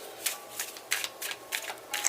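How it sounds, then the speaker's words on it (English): A series of soft, quick card riffles and flicks repeats in uneven bursts, close by and quiet, as a tarot deck is shuffled. "Alright, 3 shuffles."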